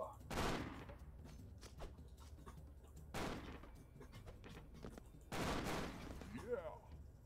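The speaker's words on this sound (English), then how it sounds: "Yeah. Minigun, dude." Minigun fire in the Expendabros video game, short rapid bursts of gunfire separated by quieter gaps, with a voice briefly audible near the end.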